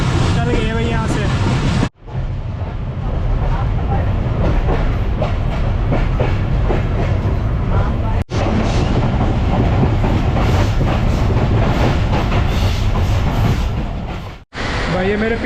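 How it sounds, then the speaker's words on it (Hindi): An intercity train in India rumbles past close by, a continuous heavy clatter of wheels on rails with rhythmic clickety-clack and brief dropouts, while people talk over it. "भाई ये मेरे पीछे थी, इनकी इंटरसिटी वाली ट्रेन है।"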